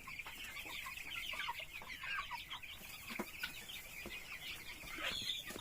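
Upgraded native chickens, a little over a month old, clucking and peeping in a large brooder, a busy flock chorus of overlapping calls, fairly faint, with no talk.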